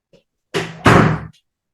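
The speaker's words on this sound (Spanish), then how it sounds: "cuando tocan la puerta" A few firm knocks on a door, a short muffled rap followed by a louder, fuller thud, close by and sharp against otherwise quiet surroundings.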